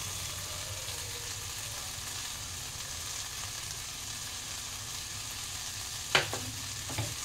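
Rice stirred and fried with spices in a wok for a Bengali fish khichuri, giving a steady low sizzle throughout with a couple of sharp utensil scrapes near the end.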